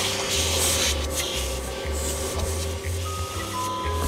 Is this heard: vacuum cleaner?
yes